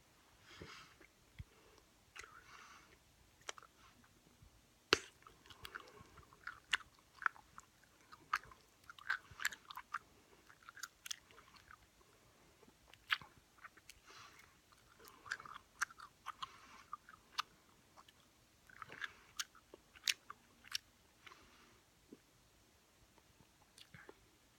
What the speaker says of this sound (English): Lay back and chew gum.